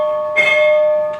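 A bell rung during a stage performance of Macbeth, a clear sustained tone that rings on for most of a second before a second soft strike near the end, close and without speech.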